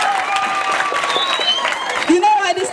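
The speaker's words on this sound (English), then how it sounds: "Please give yourselves a round of applause." An audience of school girls and guests at a menstrual hygiene kit donation event claps in steady applause, with voices mixed in over the clapping.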